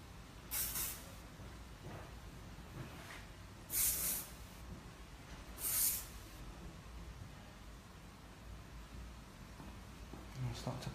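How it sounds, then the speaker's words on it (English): A spray bottle wets short hair during a haircut. Three distinct hissing bursts are spaced a couple of seconds apart against quiet room tone, and a faint fourth spray comes near the end. "spray all the short hair down."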